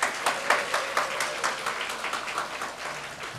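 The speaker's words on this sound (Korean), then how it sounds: "우리 세션 팀을 위해서 한 박수 보내주세요" A congregation claps for a church worship band at a mothers' prayer meeting, a short burst of rhythmic, fairly quiet applause with evenly spaced claps and no talking.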